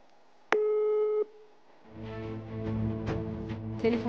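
Telephone busy signal after a call is disconnected: one steady electronic tone held about a second, then muffled background music takes over.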